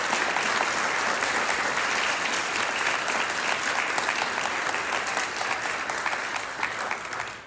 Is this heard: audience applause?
yes